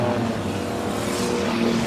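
Speedway race cars roar around a dirt track, their engines forming a dense, loud, continuous snarl that holds steady for the whole short stretch with no pauses.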